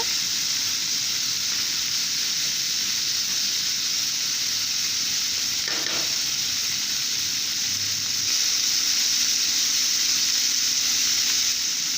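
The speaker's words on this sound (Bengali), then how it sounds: "এবার মাছগুলো দিয়ে দিচ্ছি, দিয়ে সুন্দর করে ভেজে নেব মাছগুলো।" Small mourola fish frying in hot oil in a pan over high gas, a loud, continuous close-up sizzle with a faint stir partway through and no voices.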